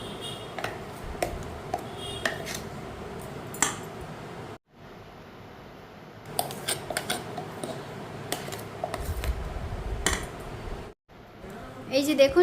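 A spoon scrapes and clinks against a bowl while ground fenugreek paste is mixed into rice batter for idli, with irregular metallic taps and short pauses, and someone talking over most of it.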